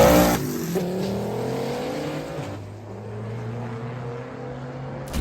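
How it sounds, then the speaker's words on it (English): A diesel VW Polo racing a V5 turbo Opel, engines droning with rising pitch as they accelerate, then one car pulling away and fading into a steadier distant hum. "The diesel Polo versus the V5 turbo Opel."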